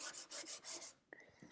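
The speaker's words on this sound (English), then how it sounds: "Sanding down most of these flat surfaces." Wood being hand-sanded: about five steady back-and-forth rasping strokes, close and fairly quiet, then a few faint taps and scrapes.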